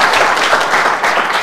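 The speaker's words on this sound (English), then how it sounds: "please can you give Uwe another hand of applause" An audience applauds a guest lecturer at a university public lecture, with steady, dense clapping that fills the short stretch at an even level.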